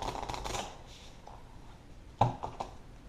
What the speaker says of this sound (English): we're going to deal out the player cards. So I got to shuffle, shuffle, shuffle